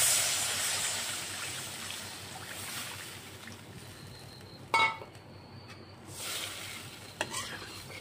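Water poured into a pan of spiced egg curry with peas, hissing and sizzling loudly at first, then a quiet simmer with a few sharp clinks of a utensil against the pan.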